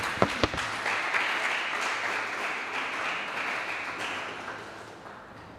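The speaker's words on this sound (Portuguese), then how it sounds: "Uma salva de palmas e louva ao Senhor." A church congregation breaks into sustained applause during a service, a dense wash of clapping that starts after a couple of sharp knocks and gradually fades.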